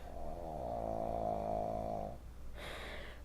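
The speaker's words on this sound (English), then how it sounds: "See what I said about the snoring?" A pet snores loudly and close by, one long drawn-out rumbling inhale that fades, followed by a shorter breathy exhale, with no talking.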